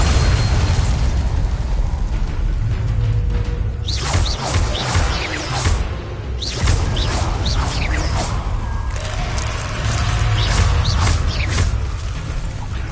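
Bombarda spells go off in Hogwarts Legacy, booming blasts with whooshing bursts and pops layered over a constant loud rumble of battle, repeated throughout.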